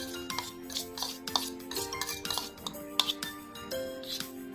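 Egg with paprika, salt and pepper is mixed in a bowl, with rhythmic clinks and scrapes of a utensil against the bowl, close and moderately quiet, in short bursts.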